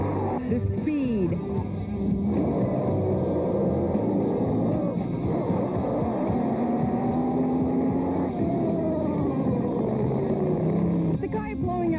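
Racing powerboats speed across the water, their engines a loud, continuous drone with whining pitches that rise and fall as the boats pass.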